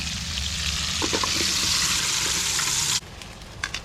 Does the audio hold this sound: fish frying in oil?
yes